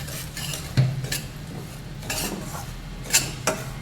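Semolina roasting in ghee over very low heat, a spoon scraping and knocking against the pan in a few sharp clinks and strokes amid a soft dry rustle, close by with no talk.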